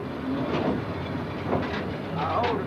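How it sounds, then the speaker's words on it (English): Mine locomotive rumbling through a coal mine at the Eastern Coal Corp Stone No 4 operation, a steady mechanical rumble with faint clanking and hiss, close by, with a voice speaking over it. "I run a locomotive in this area."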